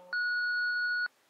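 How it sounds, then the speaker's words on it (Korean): A single steady censoring beep covers part of a recorded phone call, loud and sustained for about a second, with faint muffled speech just before and after it. "삑삑 소리도 나고"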